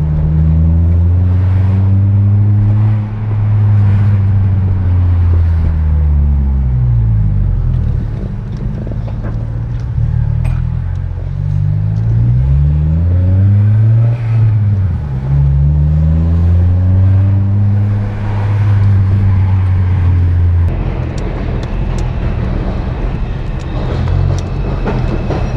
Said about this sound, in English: I added the Dynamax resonator on it. That's why it sounds a little deeper than before.